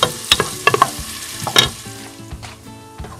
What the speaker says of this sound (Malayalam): അതിലേക്ക് തേങ്ങാക്കൊത്ത് ഇട്ട് കൊടുക്കാം, ചെറിയ ഉള്ളി ഇട്ട് കൊടുത്തിട്ടുണ്ട്